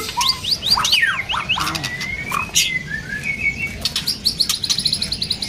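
A magpie robin imitating sparrow calls lets out quick runs of sparrow-like chirps and short whistles, close and lively, over a faint low background hum.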